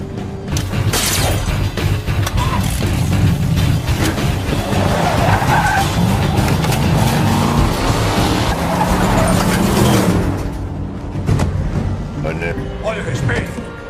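A GT car pulls out and skids, with loud continuous engine roar and tyre noise over about ten seconds before easing off, voices faintly present beneath.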